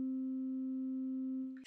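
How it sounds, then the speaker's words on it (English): A synthesizer's second oscillator holds a steady, pure sine tone, loud and unwavering, ending with a brief burst of noise at the very end. "I'm going to put oscillator 2 on so you can hear that sine"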